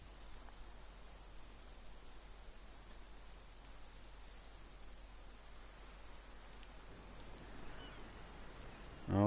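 Rainfall from the video game Disco Elysium forms a constant, even hiss across the whole stretch, with no voices, ending on a short louder knock.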